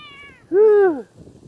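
A single clear cat meow, drawn out and falling in pitch, close and fairly loud over quiet background.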